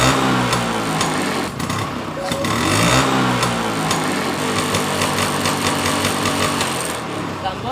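A scooter engine is started during a headlight bulb check and settles into a loud, rattling, rapidly pulsing idle that runs steadily and close by, swelling slightly once before holding level.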